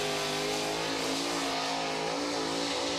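Dirt track race car out on a qualifying lap, engine droning loud and steady at high revs with a sustained whine and tire noise throughout.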